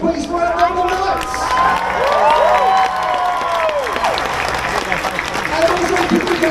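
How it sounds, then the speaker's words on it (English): A loud outdoor crowd at Winterfest in Sydney applauds and cheers, with sustained clapping, shouts and children's voices mixed with whistle-like calls throughout. "I'd like you to give that very loud round of applause, please, for our number knights."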